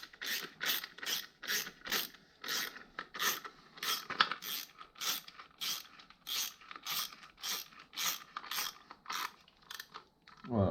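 Ratchet wrench clicking steadily as bolts are tightened on a crankcase guard for a BMW F900R motorcycle, a rapid run of sharp metallic ticks in regular bursts, close and fairly loud, with no talk.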